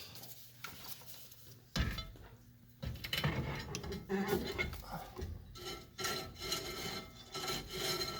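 Brake shoes rubbing on a cargo trailer wheel drum as the wheel is turned by hand, a rough grinding scrape that starts after a thump and continues in uneven close strokes.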